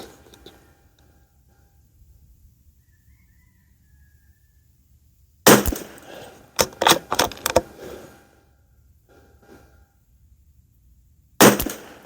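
A rifle loaded with Keystone Varmint and Eley match ammunition fires a loud sharp crack after a long quiet stretch, followed by a rapid cluster of clattering bursts and another sharp crack near the end, with no voices.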